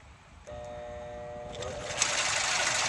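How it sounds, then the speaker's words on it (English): An electric motor with a failed start capacitor gives a steady tonal hum as power is applied, then shifts into a rougher, noisier drone without spinning up cleanly. "if your start capacitor stops, it just won't start the motor up"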